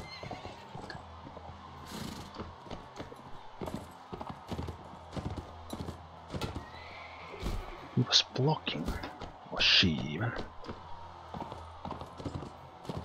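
Horses gallop with rapid clip-clop hoofbeats in a Mount & Blade Warband tournament, a whinny breaking out midway amid combat thuds, while someone talks over the action.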